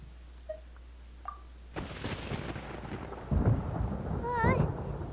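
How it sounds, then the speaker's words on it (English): Thunder in the video game Genshin Impact: after a few quiet moments, a sharp crack breaks into a long rolling rumble that swells louder and heavier partway through, with rain-like hiss and a brief chirping game effect near the end. "Paimon hears thunder!"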